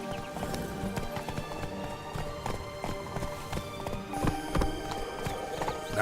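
Roach the horse galloping in Witcher 3: Blood and Wine, a steady run of loud, close clip-clop hoofbeats that carries on throughout with game music and ambience underneath.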